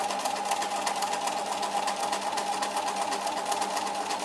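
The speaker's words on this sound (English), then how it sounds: "You neatly stitch off the end and stop sewing." A sewing machine runs steadily as it stitches off the end of a fabric dart, a continuous close mechanical whir with a fast even rhythm and no talking.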